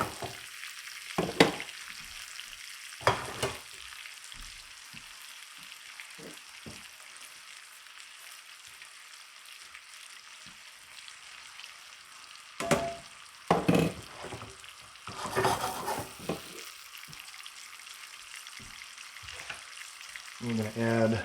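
Shrimp sizzling in butter in a pan, a steady soft fry broken by occasional sharp clicks and scrapes of stirring and handling, with louder clattering bursts near the end.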